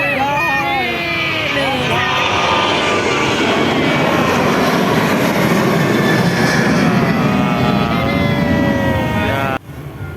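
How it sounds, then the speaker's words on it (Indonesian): An AirAsia airliner takes off at Adi Soemarmo International Airport with a loud, close jet roar and shifting engine whine that build and hold for several seconds before cutting off abruptly. "Ini pesawat AirAsia."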